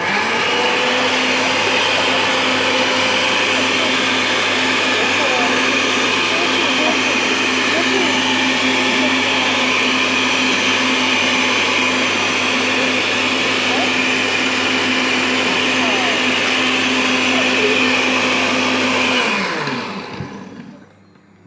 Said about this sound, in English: And then we're going to use the blender. We're going to blend it up a little bit.